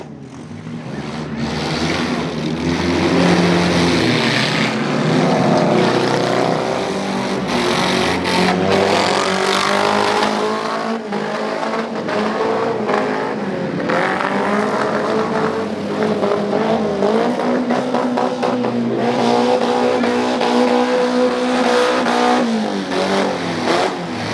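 Several race cars roar around a dirt track at a fall festival race, engines loud and continuous with rising and falling revs as the pack passes, numerous motors overlapping throughout.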